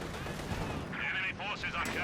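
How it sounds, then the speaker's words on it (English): A T-34-76 tank cannon fires in the Company of Heroes 2 strategy game, a few sharp booming shots with battle noise, heard over a low rumbling background. "T-34-76 rolls ahead, catches here the Panther 4, shoots, misses."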